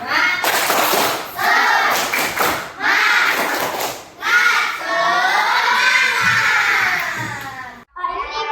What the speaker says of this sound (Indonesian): Ya, tepuk semangat dulu. Tepuk semangat.